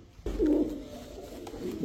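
A Royal Teddy pigeon gives a short, low, throaty coo close by at night, with faint background noise.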